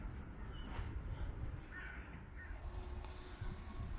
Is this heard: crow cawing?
yes